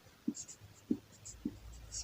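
Chalk or marker tapping and scratching on a board during a physics lecture: three soft, evenly spaced knocks with faint high strokes between them, quiet against a low background hum.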